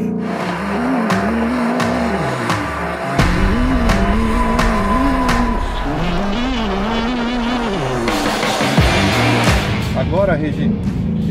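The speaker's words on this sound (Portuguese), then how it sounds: "eu vou dar uma volta e vou mostrar para você o que o Mustang Mach-1 é capaz de fazer aqui em Interlagos" A Ford Mustang Mach 1 laps the Interlagos circuit, its engine loud and close, rising and falling through gear changes and braking, with tire noise at times and someone talking over it.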